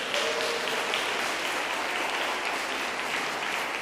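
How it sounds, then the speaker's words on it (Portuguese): A church congregation claps for Jesus during a sermon, a steady, even roar of many hands that fills the room without a pause. "Quem testifica, dá uma salva de palmas para Jesus."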